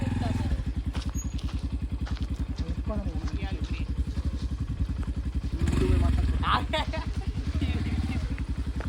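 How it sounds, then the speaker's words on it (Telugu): A motorcycle is wheeled out and started, its engine idling with a steady close thumping beat and clatter throughout, rising briefly louder midway, with occasional knocks around it. "సో బండి తీస్తాడు"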